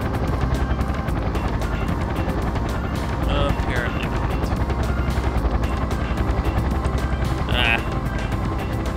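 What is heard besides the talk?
helicopter in Parasite Eve video game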